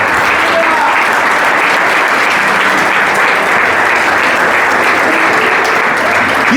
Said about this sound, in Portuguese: por isso você vai aplaudir ao Senhor nessa manhã